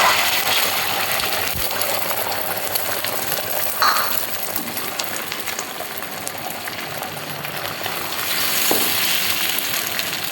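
A five-egg omelette frying in a hot pan, a steady close crackling sizzle running throughout with occasional small clinks.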